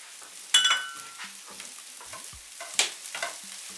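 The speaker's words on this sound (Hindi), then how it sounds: "सब्जियों को मीडियम आंच में 5 मिनट के लिए अच्छी तरीके से भून लेंगे" Carrots, capsicum and finely chopped cabbage stir-fried in a pan over medium heat for a chicken club sandwich filling, with a soft sizzle and a couple of sharp metallic clinks amid intermittent stirring.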